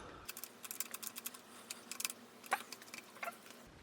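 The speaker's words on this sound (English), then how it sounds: "What is making that clicking sound?" On an Alta Redshift SM electric motorcycle, the brake lever's switch plunger gives a series of small sharp plastic clicks in an irregular rhythm, close and fairly faint, with one louder snap midway.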